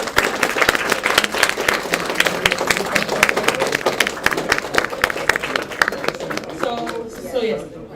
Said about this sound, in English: can we get one more round of applause for our panel